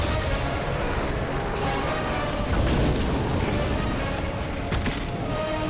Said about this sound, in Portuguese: A explosão.